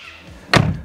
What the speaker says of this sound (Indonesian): dengar nggak bunyi tabokan pintunya enak banget.